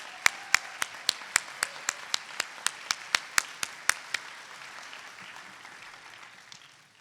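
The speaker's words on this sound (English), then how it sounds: "Let's give the chairman of the board," Sharp, evenly spaced claps ring out about every quarter second at a university ceremony honoring board chairman Bob Rawson, then fade into a softer wash of scattered applause that gradually dies away.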